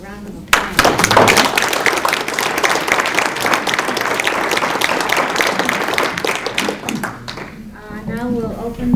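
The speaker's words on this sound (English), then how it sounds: "I think they deserve a round of applause." Applause at a community meeting on challenges facing Leelanau schools, a burst of audience clapping with some thumps that carries on steadily, with voices in the room underneath.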